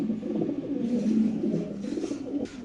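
Close, fancy-breed Lahori pigeons at a pigeon farm coo in low, throaty, rolling calls that run continuously, with a few softer pauses, and no talk.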